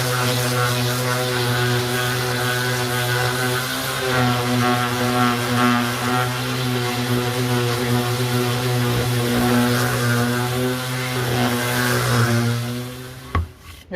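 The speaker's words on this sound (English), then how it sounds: "Go quickly with your sander." Power sander working oak and resin coasters, a steady loud droning whine with strong tonal hum running continuously and close, ending abruptly as it switches off near the end.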